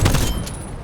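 Gunfire from players in Call of Duty Cold War, a brief burst of rapid muffled shots thudding at the start, then trailing off into a low rumble.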